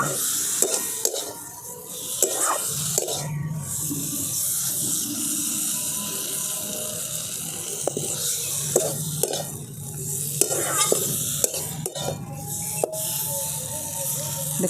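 Potato pieces and spices stir-fried in a pan, with continuous sizzling and frequent sharp scrapes and clacks of the spatula against the pan, close and loud.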